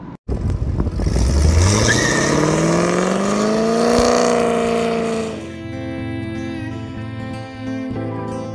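A car engine revs hard, its pitch climbing steadily for several seconds before dropping back to a rough, lower idle-like drone, loud and close with no talking.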